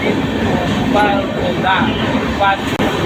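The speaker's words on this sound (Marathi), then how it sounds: "आता मी ट्रेनमध्ये ना कल्याणच्या स्टेशनला बसलेलो" A train from Kalyan toward Kasara rumbles along steadily, a loud continuous rolling noise with faint rhythmic clatter, heard from inside a carriage.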